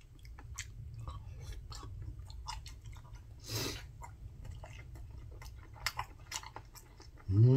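Jajangmyeon noodles and eel fish cake from Busan's Jagalchi market being eaten in a mukbang: close, steady soft chewing with scattered wet smacks and bites, followed by a louder bump at the end.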